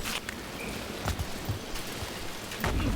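Rain falling in the Dragon Age: Veilguard video game, a steady soft hiss of drops with faint scattered footsteps and rustling on top, fairly quiet and continuous with no talk.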